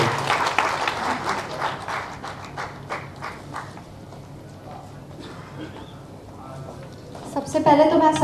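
An audience at a speech event in Rajgir, Bihar applauds to welcome an IAS officer. The clapping is loud at first and gradually fades, and a voice begins speaking near the end.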